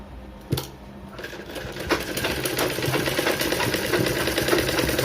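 Up close, a sewing machine runs steadily as it stitches a back-open blouse, its needle chattering in a fast, even rhythm after a sharp clack at the start.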